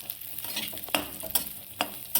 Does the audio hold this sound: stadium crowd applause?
no